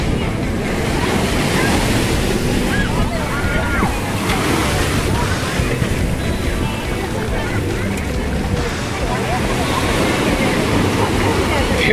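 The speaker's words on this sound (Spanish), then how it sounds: "Después de unas cuantas olas suaves, se vienen unas fuertes." Strong ocean waves roll in at Caleta beach in Acapulco, Mexico, during a swell, a loud continuous roar of surf with wind buffeting the microphone and faint voices blended into the wash.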